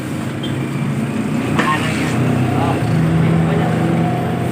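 A Honda Supremo 155 motorcycle, previously hard to start, catches and settles into a steady idle, its engine hum continuous and fairly close throughout, with brief voices and handling noises over it.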